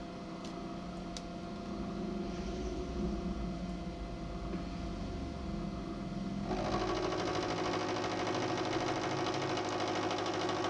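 A metal lathe takes a thick, deep cut at slow RPM without lube, a steady mechanical whirr that steps up into a louder, denser grinding hum partway through, with no talking.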